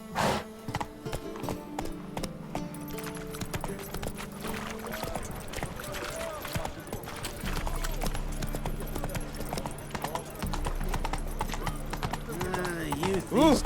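A horse's hooves clip-clop in a steady galloping rhythm in The Witcher 3: Wild Hunt, close and continuous, with an occasional whinny, game music and spoken dialogue over the top.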